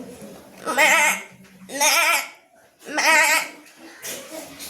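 A human voice mimics a goat's bleat three times, each call wavering and nasal, with short pauses between and a softer fourth call trailing off.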